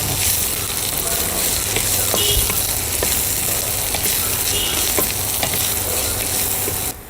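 Red and green chillies frying in a pan for a potato and spinach dish, with a steady loud sizzle and occasional stirring clicks throughout that drop off abruptly at the end.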